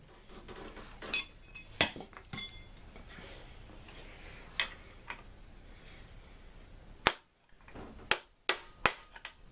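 Sharp metallic taps and clinks ring out while a corroded front bearing retainer is worked loose from a T90 transmission, scattered irregular knocks and a quick cluster of strikes near the end, close and fairly loud against a quiet workshop background.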